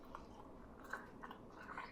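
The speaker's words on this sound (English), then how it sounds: "He's chewing it up and he doesn't even know that it's plastic!" Someone chews microwaved plastic mistaken for cheese, giving faint, close, irregular crunchy bites and mouth noises over about two seconds, with no talking.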